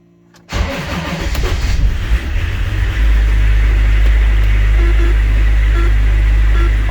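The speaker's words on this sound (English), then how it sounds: "we'll start the engine" Range Rover P38 engine cranks briefly and fires up close by, then settles into a loud, steady idle with a deep low rumble, during a gearbox oil and filter service, with no talking.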